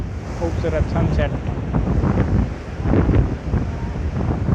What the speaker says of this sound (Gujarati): હવે મોજા ફૂલ આવવા માંડ્યા છે